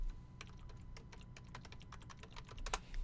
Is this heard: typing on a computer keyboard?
yes